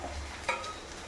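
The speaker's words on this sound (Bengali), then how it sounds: "এখন এমনি ঢেঁড়স ভাজা করছি আলু আর টমেটো দিয়ে" Okra frying in a pan with potato and tomato, a quiet steady sizzle with a single scrape of stirring partway through, brief and close, with no voices.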